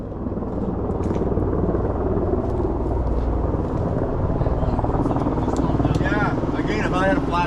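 A helicopter's rapid rotor chop thumps steadily and loudly, blending with the nearby rumble of a supercharged Hemi V8 Jeep Gladiator off-road, with people speaking over it.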